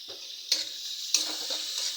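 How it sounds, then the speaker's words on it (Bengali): Tomatoes frying in oil with salt, a bright hissing sizzle with two sharp scrapes of a spatula against the pan, close by and with no one speaking. "টমেটোটা ভাজা ভাজা হয়ে গেছে"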